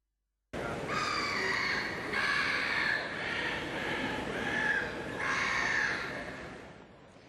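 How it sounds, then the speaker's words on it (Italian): A seagull calls repeatedly across a deserted Piazza San Marco in Venice, several harsh, drawn-out cries in bursts over a faint background hush, fairly close and clear with no talk. "Il silenzio è rotto solo dal verso di un gabbiano, dai rumori di un cantiere"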